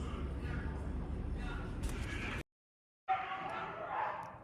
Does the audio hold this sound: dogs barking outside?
yes